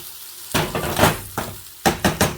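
Potatoes and vegetables being stirred in a pan: several close scraping, clattering strokes of a utensil against the pan in uneven bursts, over a soft background sizzle, with no voices.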